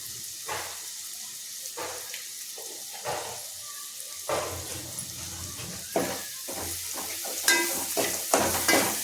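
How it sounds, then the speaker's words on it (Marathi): Tomatoes with salt being stirred in a pan on the stove: a soft background sizzle broken by repeated scraping and clattering strokes of a spoon, growing a little louder toward the end, with no speech. "छानपैकी मिक्स करून घ्यायचं"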